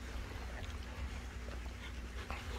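Several dogs eat side by side and pant in soft, quick breaths, faint and close against a low background hum.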